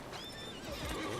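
A horse whinnying in a video game, a short close neigh with a rising then falling pitch, followed by a light shuffle.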